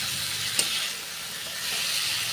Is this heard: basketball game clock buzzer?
no